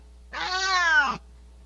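A single drawn-out cat meow, clear and close, rising then falling in pitch over about a second, alone against a quiet background.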